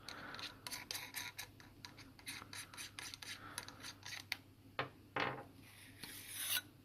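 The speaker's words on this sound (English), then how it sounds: "I'll just unscrew this." A carbon-fibre-wrapped aluminium barrel from a gas blowback airsoft gun is unscrewed, giving quiet, close scraping and rasping twists in short repeated bursts, a little louder toward the end.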